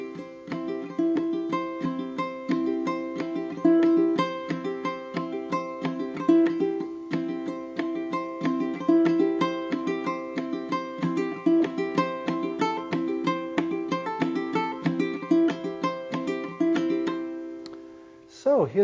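A ukulele strummed fast with fingernail and thumb, dense steady strokes ringing clearly and close for nearly twenty seconds, ending with a quick muted flourish.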